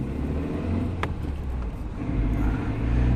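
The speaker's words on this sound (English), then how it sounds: "I'm just driving around." Interior of a car driving around a town in Lithgow, Australia, a steady low rumble of road and engine noise with a brief tick, no talking.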